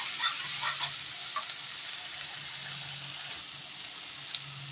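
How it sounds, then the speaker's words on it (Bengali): Carrot and capsicum frying in a pan give off a soft, steady sizzle that stays even throughout, with no voices. "এই যে এখানে আমি গাজর আর ক্যাপসিকাম ভেজে নিচ্ছি।"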